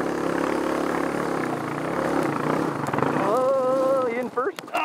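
A dirt motorcycle engine labors steadily while towing another bike up a hill, a continuous rumbling drone that rises into a revving whine near the end, with people talking over it.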